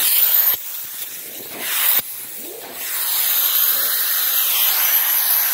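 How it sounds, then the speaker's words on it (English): A multi-sprayer mists neutral cleaner onto sofa upholstery and carpet in steady, close hissing bursts, with short pauses between sprays and one long continuous spray near the end; no one speaks. "I always use my multi-sprayer"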